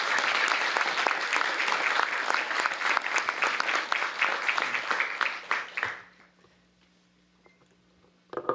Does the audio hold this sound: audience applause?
yes